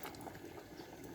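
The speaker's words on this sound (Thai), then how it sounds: "โอ้โห เดือดดีมากนี่" Rice bubbling at a rolling boil in a pot, a dense, steady burble of popping bubbles, close and fairly quiet.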